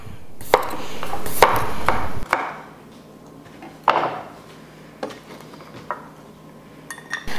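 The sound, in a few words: knife dicing thin-skinned potatoes on a board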